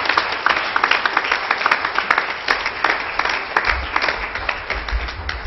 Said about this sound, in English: Let's give the Lord another hand clap of praise this morning.